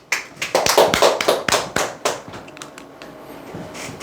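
A small audience at a Korean sales-coaching seminar claps in a loose, uneven burst of sharp hand strikes that thins out and fades after a couple of seconds. No one speaks over it.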